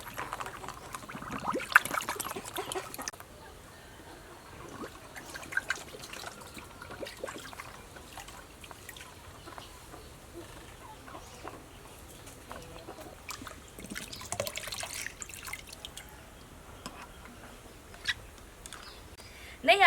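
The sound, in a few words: washing chicken eggshells under running water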